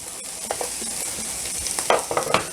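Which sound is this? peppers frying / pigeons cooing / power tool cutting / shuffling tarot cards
peppers frying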